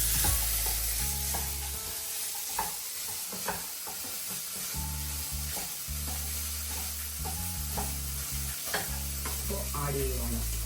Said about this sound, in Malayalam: ഞാൻ ചിക്ക് പീസ് ആഡ് ചെയ്ത് കുക്ക് ചെയ്ത് വെച്ചതായിരുന്നു